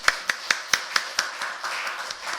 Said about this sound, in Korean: 한번 박수 치겠습니다